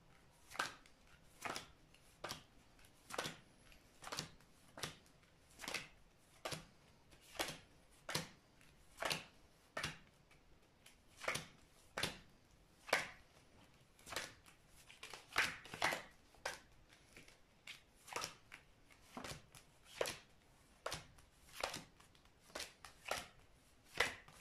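Tarot cards are cut and dealt one by one from a deck, giving a long, steady series of sharp papery snaps, roughly one per second, close and clear with no talking.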